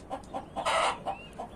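Short, close clucks come from a young, strong rooster with uncut spurs, breaking into a longer, louder squawk at mid-point before the brief calls resume.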